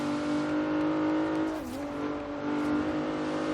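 A Lexus IS350 F Sport drag build in Forza Horizon 3 drones loudly under acceleration, its steady engine note dipping briefly at a gear change before climbing again.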